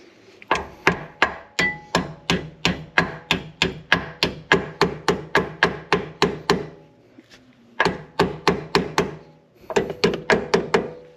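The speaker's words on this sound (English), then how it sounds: "again come around with the hammer" Steady, evenly spaced hammer taps on a Brembo brake caliper assembly of a Subaru BRZ, about three per second, loud and close, with two brief pauses before the tapping resumes.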